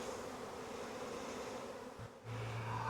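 Honey bees hum continuously at a beehive during a spring Demaree hive setup, a close, steady buzz, with a brief dip before a louder, nearer bee drone at the end.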